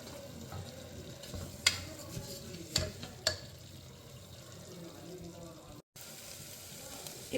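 Asafoetida sizzles in hot oil in a single pot of millet pongal being cooked, a steady low frying hiss with a few sharp clinks of a stirring spoon against the pan.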